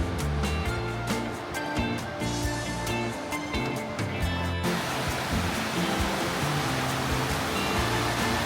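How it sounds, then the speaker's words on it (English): The River Dee flowing through the city of Chester gives a steady, close broadband rush of water. It follows several seconds of tonal, music-like sound and continues alone with no talk. "So this is the River Dee that runs through the city."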